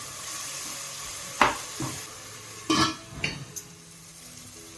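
Masala with softened tomato for chicken brinjal curry fries quietly in a pan, a low steady sizzle broken by several sharp clinks and scrapes of a utensil against the pan.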